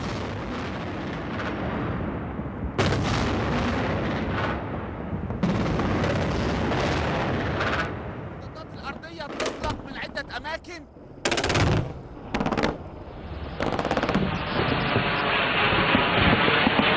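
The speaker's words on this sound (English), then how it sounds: "It was soon followed by barrages of artillery and anti-aircraft guns." Artillery and anti-aircraft gunfire over Baghdad during the 2003 Iraq war: loud, sustained bursts and rolling barrages with sharp cracks echoing across the city, broken by brief pauses, heard at a distance without talk.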